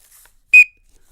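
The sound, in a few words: whistle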